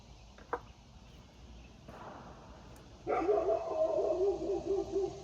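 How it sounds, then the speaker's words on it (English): Dogs bark and bay in the distance at a homestead, set off by nearby gunshots, starting with a faint yelp and building into sustained, overlapping howling barks over quiet background. "Somebody is shooting, so that's why the dogs are barking."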